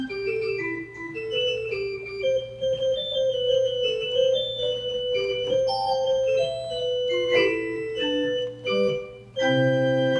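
A church pipe organ in a Lutheran sanctuary sounds its flute stops, a sustained, clear melody with held chords and shifting notes, loud and steady with no talk.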